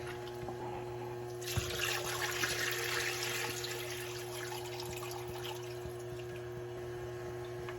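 Tap water running while cooking beef nihari at home, a soft splashing stream that starts abruptly and flows steadily, moderately close over a low kitchen hum, with no voices.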